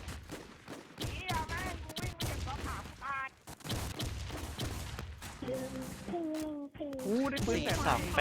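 Rapid bursts of gunfire from the online shooter WarZ, near and loud, with sharp repeated shots scattered through the clip while someone talks excitedly over them.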